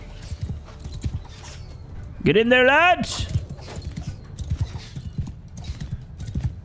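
Cavalry horses thunder across a Mount & Blade II: Bannerlord battlefield with a steady clatter of hoofbeats, and one loud whinny cuts through midway while someone shouts orders over the din.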